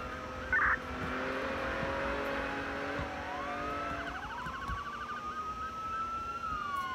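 A fire engine siren wails in a Roblox Pennsylvania state roleplay game, its tone sweeping and rising steadily over a continuous engine hum, loud and near, followed by a quick yelping pattern, with no talk.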